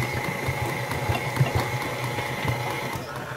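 A running machine shakes a folding table during dough making with flour, giving a steady mechanical hum with rapid rattling vibration and occasional knocks, close and continuous throughout.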